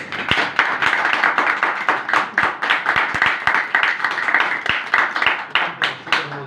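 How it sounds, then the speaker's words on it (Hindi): Loud rhythmic clapping from a church congregation during an Easter worship service, many hands beating in a fast, even pulse close by. "एक बार जोरदार तालियां"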